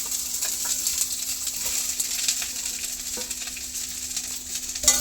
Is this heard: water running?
no